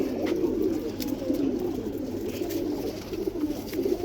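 Pet pigeons, a cage of about fifteen or sixteen females, coo continuously in overlapping low throbbing calls, close by, with no talk.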